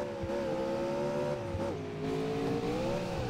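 Engine of a car in a racing video game under full throttle with nitro boost, a loud continuous rising drone that dips briefly mid-run and climbs again, heard alone.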